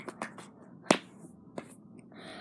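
A few sharp, separate hand claps sound close and dry, spaced irregularly with one louder crack in the middle, alone without talk.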